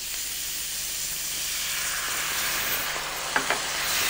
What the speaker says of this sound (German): Mit Weisswein und Wasser ablöschen.